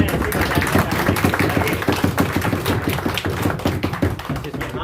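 A group of people clapping their hands together at a welcome ceremony for a new municipal official, a steady dense patter of claps, close and continuous with no speech over it.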